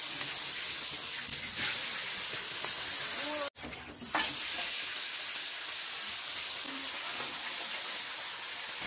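Katla fish head frying in hot oil in a home kitchen, a loud, steady, close sizzle and hiss with a brief cut-out in the middle, no voices.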